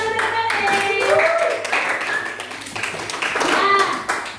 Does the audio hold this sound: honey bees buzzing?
no